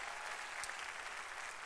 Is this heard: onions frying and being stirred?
no